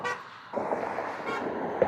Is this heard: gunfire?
no